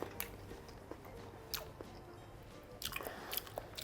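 Close, quiet chewing and biting on soft stir-fried tofu coated in sauce, a few squishy crunches spaced over a few seconds.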